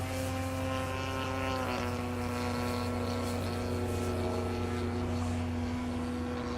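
A radio-controlled model B-17 bomber airplane drones steadily overhead during its maiden flight, its engines giving a continuous buzzing hum at moderate distance with no break.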